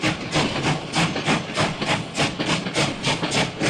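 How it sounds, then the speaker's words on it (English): A train sound effect of rhythmic, hissing chuffs repeating evenly and loudly, like a steam locomotive working along the track, with no other sounds over it. "Finally, we have a train sound."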